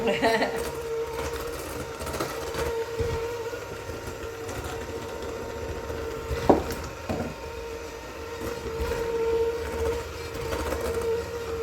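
A small electric hand mixer churns thick graham cracker chocolate chip cookie dough, its motor whirring steadily and straining against the stiff mix, with a brief knock partway through and faint voice sounds in the background.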